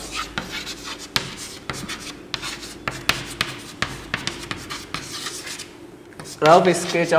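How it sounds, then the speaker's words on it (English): Pencil or pen scratching out a rough sketch of a triangle ABC on paper for a class 6 maths lesson, a run of short rubbing strokes close up, with a voice starting to talk near the end. "So first we draw the rough sketch of"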